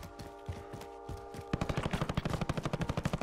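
Rapid automatic gunfire in Call of Duty Warzone, a sparse burst of shots followed by a loud, fast, steady stream of rounds, with a game tone droning beneath.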